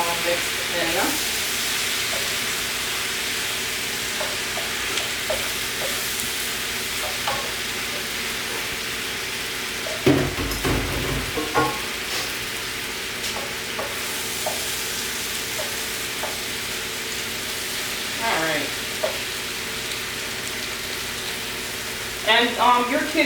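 Mushrooms and vegetables stir-fry in a hot pan, a steady close sizzle and hiss with occasional scraping stirs and a louder clatter midway, a voice speaking now and then.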